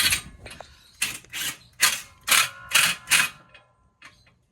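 A battery-powered tool tightening the large axle nut on a 1.4T Chevrolet Cruze during a transmission swap, heard as about seven short close mechanical ratcheting bursts with pauses between them.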